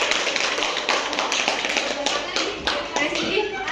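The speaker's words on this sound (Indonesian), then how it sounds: "Mbak Nadia kita kasih tepuk tangan buat Mbak Nadia." A classroom of students claps for a classmate, a dense burst of close hand claps with scattered taps continuing throughout.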